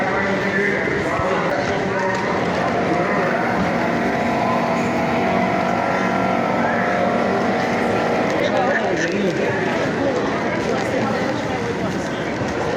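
A tour boat motor on the San Antonio River Walk drones steadily throughout, a continuous low rumble, with people talking in the background.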